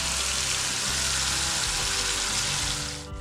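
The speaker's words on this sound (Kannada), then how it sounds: "ಸ್ವಲ್ಪ ಫ್ರೈ ಮಾಡೋಣ" Homemade ginger garlic paste fries with cumin and spices in a hot pan, making a loud, dense, steady sizzle up close that fades slightly at the very end, with no talking over it.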